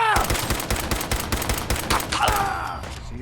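Rapid bursts of gunfire in Fallout 4, a dense string of sharp, loud shots fired close by in quick succession, with a shouted voice breaking in partway through.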